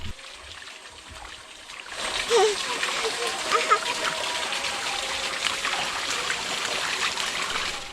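A child slaps and kicks at water with hands and feet, starting after a quiet moment and continuing as steady, close splashing and sloshing.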